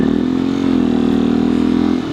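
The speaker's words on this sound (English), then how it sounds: "definitely got to keep the revs up" A 2019 Beta 125 RR S dirt bike engine drones loudly at steady high revs, holding a constant buzzing pitch for a couple of seconds with a brief dip at the end.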